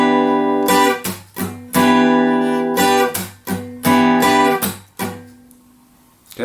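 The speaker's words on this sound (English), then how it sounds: "so that's down, up, slap, and then a muted upstroke." Acoustic guitar strumming a slow pattern of down and up strokes with a percussive slap and muted upstrokes, several bright strummed chords separated by short choked hits, close and alone, ending on a ringing decay.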